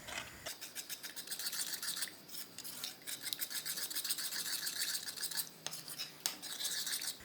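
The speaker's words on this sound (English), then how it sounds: "you have to keep stirring for it not to settle" A spoon scrapes and stirs hulwa in a pot with quiet, rhythmic rubbing strokes, close and soft, continuing steadily throughout.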